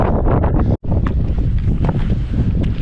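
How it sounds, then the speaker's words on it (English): Strong wind on a hilltop at Kinder Scout buffets the microphone in a steady roar, broken by one brief drop-out, loud and continuous with no talking. "The wind's picking up now."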